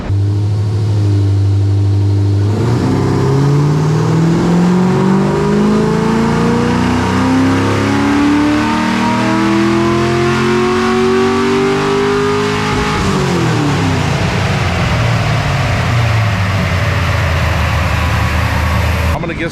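A Camaro SS with a swapped 5.3 V8 revs hard on a dyno, its loud engine tone climbing steadily through a long pull, then dropping away as it lifts off, with voices faintly beneath the roar.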